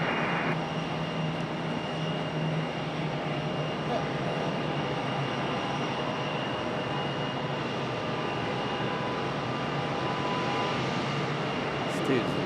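An arriving airliner at Raleigh-Durham airport, a steady distant jet roar holding at an even level throughout, with a faint high whine above the broad rumble.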